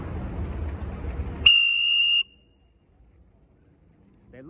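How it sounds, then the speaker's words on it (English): A storm whistle at a dog park blasts one loud, piercing, steady note for under a second, cutting through outdoor background noise and leaving near silence afterward. "let's see what happens when I blow the whistle"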